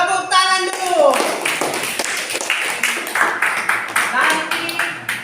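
Classroom clapping breaks out after a closing greeting, a dense patter of hands from a group of students with voices chattering over and around it.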